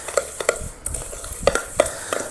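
Oreo crumbs stirred with melted butter in a bowl for a pie crust, heard as a series of light scraping and clinking utensil strokes with no talking.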